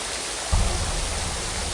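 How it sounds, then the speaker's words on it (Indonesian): Broadband rushing water of a waterfall used as a sound effect in an Indonesian horror podcast, a steady full hiss swelling louder with a low roar about halfway through, no voices. "karena mendengar suara air terjun."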